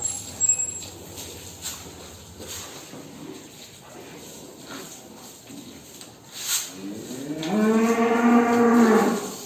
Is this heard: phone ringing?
no